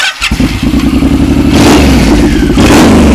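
A 2006 Suzuki VZR1800 M109R with a stalling fault in first gear, its big engine revving hard and close, a loud throbbing roar that rises and swells through the whole clip.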